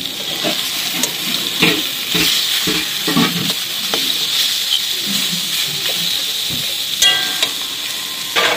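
Fresh taro (kochu) greens, just picked from the garden, are sautéed in a pan. A loud, continuous close sizzle with steam hiss runs throughout, punctuated by scraping stir strokes and occasional clinks.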